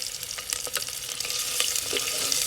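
Ginger and green chili sizzling in hot oil in a clay pot, with scraping stirs and a steady bright hiss that grows slightly fuller toward the end.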